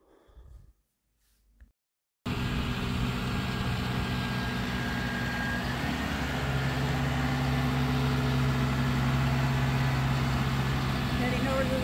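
A John Deere 6135E farm tractor engine runs close and loud in a steady, continuous drone that starts abruptly after a brief quiet moment with faint voices, with a rising tonal whine partway through.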